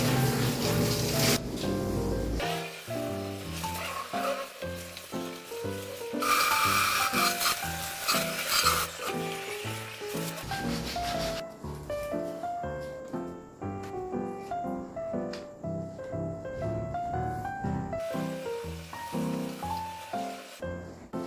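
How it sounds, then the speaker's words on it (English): A worn apartment kitchen sink is scrubbed by hand with steel wool. The scraping comes in quick, rhythmic rubbing strokes, close and steady with small variations, and no one speaks. "I just finished cleaning the sink here"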